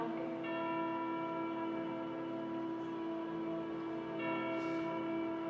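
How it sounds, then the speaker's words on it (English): Tolling bells in a film score ring out in two quiet, resonant strikes, each with a long harmonic sustain decaying over several seconds, and no other sounds. "The bells,"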